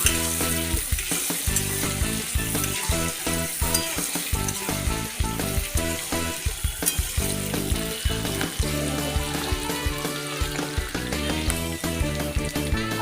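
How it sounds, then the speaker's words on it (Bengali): Chopped onions fry in a pan for a chicken curry, giving a dense, continuous sizzle with rhythmic pulsing and faint tonal sounds layered over it from start to finish. "এরপর মধ্যে আমি পেঁয়াজ কুচোগুলো দিয়ে দেবো পেঁয়াজটা একটু লাল করে ভেজে নেব"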